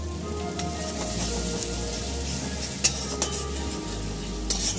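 Spice masala for dhaniya katla fish sautés in oil in a pan, a steady close sizzle with occasional sharp scrapes of a spoon against the pan, and no talking.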